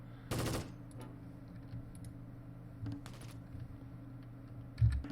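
Tank guns fire in the World War II strategy game Close Combat: Gateway to Caen, with two sharp bursts a few seconds apart and a thud near the end over a quiet low hum.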